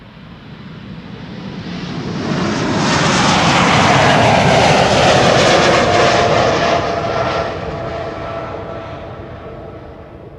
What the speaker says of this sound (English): the 747 cargo is on the roll